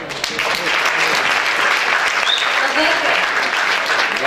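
An audience applauds steadily at the Klusie ūdeņi 2015 concert in Aizkraukle, Latvia, a dense wash of clapping that fills the whole stretch without pause.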